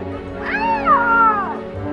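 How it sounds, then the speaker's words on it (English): A cat gives one loud, drawn-out meow close to the microphone, rising and then falling over about a second against a low background hum. "You goddamn cat!"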